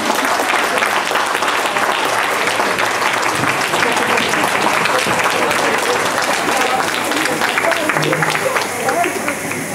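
Audience at a women's awards gala in Olsztyn breaks into sustained, loud applause, a dense wash of many hands clapping steadily throughout with faint crowd murmur beneath.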